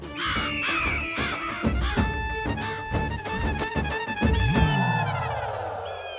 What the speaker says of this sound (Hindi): आंखें खुलिए, कौवे आ गए।